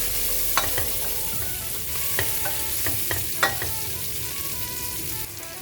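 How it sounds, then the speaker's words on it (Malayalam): Crushed shrimp being stirred into sautéed onions in a pan, a spoon or spatula scraping and clacking in a few distinct strokes over a steady close sizzle of frying. "ഇതിലേക്ക് നമുക്ക് ഇടിച്ചു വെച്ചിരിക്കുന്ന ചെമ്മീൻ ചേർത്ത് കൊടുക്കാം. ഒന്ന് മിക്സ് ചെയ്ത് കൊടുക്കുക."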